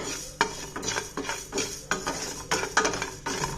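Dry rice lightly roasted in a pan for payasam, scraped and stirred with steady, rhythmic strokes, a gritty rattle with occasional clinks of the utensil against metal.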